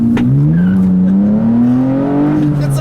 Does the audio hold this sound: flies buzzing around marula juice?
no